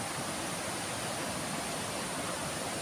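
A strong river current rushing steadily, a continuous broadband wash of water with no breaks, fairly close and alone.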